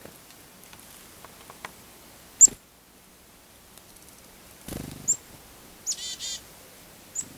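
Wild chickadees give a few short, bright chirps and calls while being hand-fed outdoors, spaced apart over a quiet background with light rustling.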